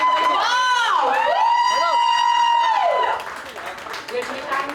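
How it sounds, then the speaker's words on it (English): At a celebrity unveiling event, a crowd cheers and applauds loudly while a sustained, wavering whoop-like voice rings out over the noise for about three seconds, then the cheering thins into scattered claps and chatter. "I appreciate the applause. That's a fabulous applause."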